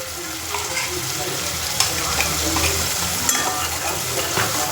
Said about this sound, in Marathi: तेलामध्ये मसाला चांगला कलसून घ्यायचा तेलामध्ये